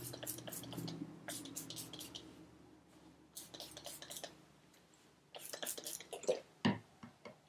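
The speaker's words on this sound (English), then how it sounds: "I'm going to start by spritzing the hair just to get a little bit moistened" Spray bottle spritzing water onto hair, a series of short bursts in several quick clusters, close and moderately loud.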